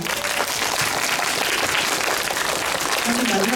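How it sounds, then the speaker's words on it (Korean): A cinema audience at a Dolby Cinema Q&A for the film The Moon with Doh Kyung-soo bursts into loud, continuous applause that holds steady throughout, with a voice surfacing faintly near the end. "박수 부탁드립니다."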